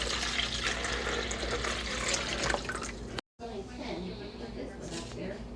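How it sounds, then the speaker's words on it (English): Water from a cup poured into the back reservoir of a coffee maker, a steady trickling splash with dripping, fairly quiet, with a voice talking over it. "Fill your cup most of the way up with water. Pour that into the back."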